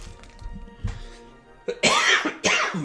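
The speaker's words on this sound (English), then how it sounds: "Got a big cough going on tonight." A man coughs indoors, first a couple of soft throat-clearing sounds, then two loud, harsh coughs close to the microphone.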